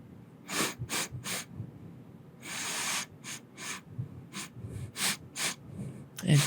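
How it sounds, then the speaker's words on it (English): Close, breathy sniffing right beside the ear in a cat-girl adventurer roleplay, a string of short nasal bursts in loose rhythm with a few longer drawn inhales, soft and intimate, with no talking over it. "How does it sniff?"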